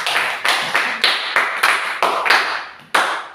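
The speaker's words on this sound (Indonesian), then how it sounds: "silakan beri tepuk tangan kepada teman kelompok satu." Several pairs of hands clap in a classroom, giving a scattered round of about eight sharp, uneven bursts, close and fairly loud, with a brief gap before a final clap.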